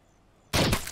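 A single loud, sudden gunshot bursts in after a near-silent moment, harsh and close, with a brief crackling tail from the film Sicario.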